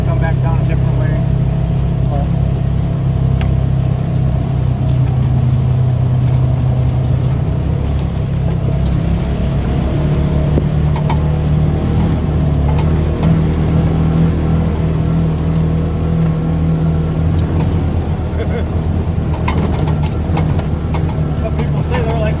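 Side-by-side UTV engine droning steadily while drifting on a steep trail, a continuous loud motor hum with low rumble throughout, people talking over it.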